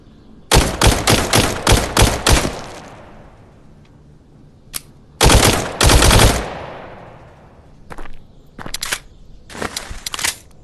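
Gunfire in a VR shooting video game: loud, close bursts of rapid automatic shots, a long volley, then a quieter stretch and further short bursts, with no talking.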